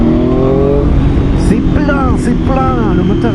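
A Triumph Street Triple 765 RS 2021 roadster's engine revs loudly and up close, its pitch rising and falling in repeated sweeps while someone talks over it.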